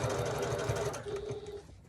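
A sewing machine runs in a fast, steady stitching burst while working a 1941-style gasmask bag, close and fairly quiet, then slows near the end.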